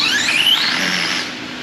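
A drag car launches hard down the track on a test-and-tuning pass, its engine a loud, sustained roar with a rising whine that holds steady before easing slightly near the end, with no voices.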